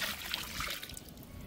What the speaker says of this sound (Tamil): இப்போ உங்களுக்கு தேவையான அளவு தண்ணி சேர்க்க போகணும்.